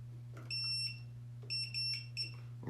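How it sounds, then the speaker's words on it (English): Electronic tone beeps used to demonstrate Morse code dots and dashes, a few short and slightly longer bursts in irregular rhythm over a constant low electrical hum, close and clear with no talking. "the dots represented a short beep, like that"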